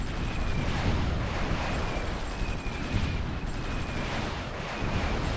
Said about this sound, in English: we're launching all our missiles now